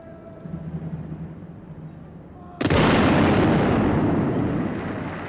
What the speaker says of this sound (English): they literally launched off a fusillade of shots at the enemy